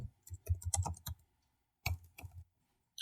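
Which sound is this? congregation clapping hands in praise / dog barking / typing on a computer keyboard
typing on a computer keyboard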